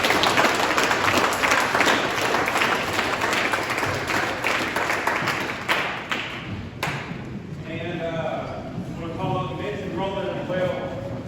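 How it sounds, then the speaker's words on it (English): Audience applause for high school basketball players at an awards event: a steady, dense round of clapping that fades into speech partway through. "let's give these young men a round of applause"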